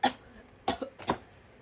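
Three exaggerated, theatrical coughs in quick succession, close and fairly loud, the first alone and the last two bunched together, with no speech around them.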